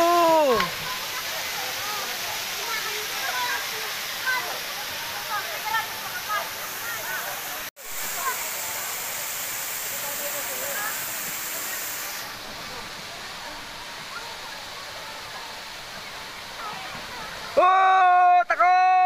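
Bolinao Falls in Pangasinan pours in a steady, loud broadband rush of falling water, continuous and close, with a brief dropout and shouting voices near the end.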